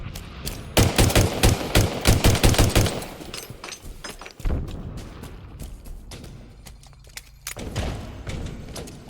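Gunfire rattles through a Halo Infinite hill-control multiplayer match: a close, rapid string of shots for a few seconds, then scattered single shots, thuds and quieter distant fire.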